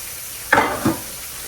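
Cube steak browning in a frying pan makes a constant, close sizzle, with two brief louder bursts of spitting fat in quick succession and no voices.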